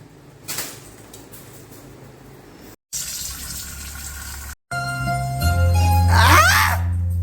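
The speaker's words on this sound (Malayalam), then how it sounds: "1 കിലോ അരി നമ്മൾ കുതിർത്തുകയാണ് വെള്ളത്തിൽ." Tap water gushes into a vessel of rice set to soak for Kerala madhooth, in three bursts with short pauses, the pitch climbing as the container fills.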